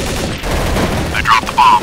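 Gunfire in Counter-Strike: Source, a dense burst of shots with a few sharper cracks toward the end, loud and close over steady background game noise.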